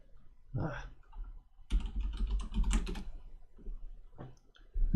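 Bursts of typing on a computer keyboard come in quick clusters of clicky keystrokes separated by short pauses, close and fairly quiet.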